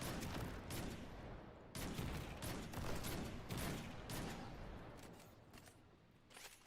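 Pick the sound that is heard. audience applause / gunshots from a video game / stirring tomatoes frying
gunshots from a video game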